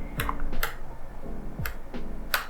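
Computer keyboard keys are pressed while erasing code text, a few sharp separate clicks spread unevenly with pauses between them, close and fairly quiet, with no voice.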